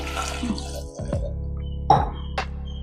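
A tumbler of water is poured briefly into a cooking pot of soaked dried peas and cut potatoes, with a couple of splashing drips, over a steady low hum and faint music.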